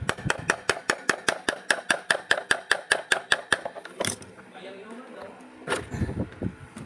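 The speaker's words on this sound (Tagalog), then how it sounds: "pag nagpukpok kayo nitong shafting, dapat dahan-dahan lang mga kabutingting" Steady series of about fifteen sharp hammer blows on the metal shaft of an Airfinity stand fan under repair, evenly spaced and close, then a single louder strike and scattered handling clatter with quieter taps near the end.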